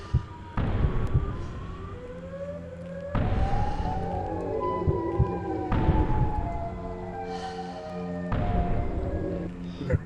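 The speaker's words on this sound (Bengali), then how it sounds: "আজকে আমাদের এই মিশনটা এটা ছিল যে আমাদের সাইরেন হেডের কাছেই ঘুরতে হবে" A video game's Siren Head monster lets out long wailing siren blasts in four loud, repeated bursts, each sweeping and fading over a rumbling backdrop.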